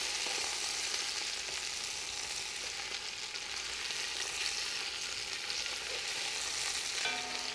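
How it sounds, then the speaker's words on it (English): Meat browning with onion and garlic in a pan, a steady close sizzle and crackle of frying throughout, broken only by faint clinks near the end. "we're gonna brown them with the onion and the garlic"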